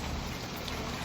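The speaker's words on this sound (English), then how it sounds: "you can hear the rain outside my room." Steady rain hisses softly in the background, heard from indoors in a room, a continuous even wash with no other sounds.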